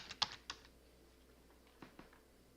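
A few quiet, separate clicks of typing on a computer keyboard, two quick keystrokes near the start followed by sparse taps after a pause, faint and alone.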